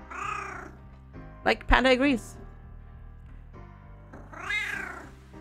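A house cat gives a couple of short meows, with people talking casually over and around them during a relaxed board game stream.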